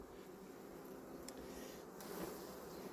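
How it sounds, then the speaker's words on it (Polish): Honeybees hum in a steady, close swarm buzz that holds for a few seconds, with faint higher tones flickering through and no talking. "patrzcie jak pszczoły wiszą"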